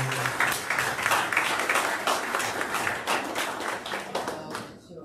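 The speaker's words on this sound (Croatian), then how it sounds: "Molim vas jedan aplauz." An audience claps to welcome a speaker, a sustained round of many hands with distinct claps standing out, then tapering off near the end, with a few voices underneath.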